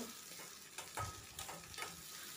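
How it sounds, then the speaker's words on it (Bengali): Sliced onion and four slit green chilies frying in oil for a crab curry, with a soft, faint sizzle and a few light stirring scrapes and clinks, up close and quiet. "দেখো, তোমরা দেখতেই পেলে তেলের মধ্যে আমি পেঁয়াজটা দিয়ে দিয়েছি আর তার মধ্যে দিয়ে দিলাম 4টে কাঁচা লঙ্কা চেরা"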